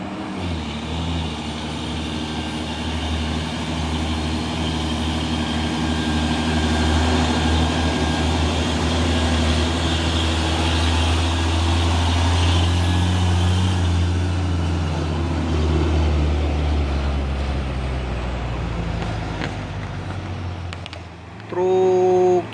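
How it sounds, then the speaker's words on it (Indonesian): Hino CPO tanker truck rolling past on a road: a steady, loud diesel engine drone with a heavy low rumble that holds for a long stretch, then fades briefly before a closing knock. "Truk tangki CPO ini ya"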